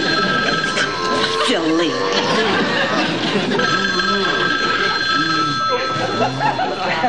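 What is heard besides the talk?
telephone bell ringing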